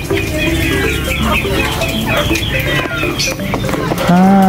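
Brahma chickens cluck and murmur steadily close by in a muddy backyard farm after a flood, with a busy mix of farmyard chatter and a louder call near the end.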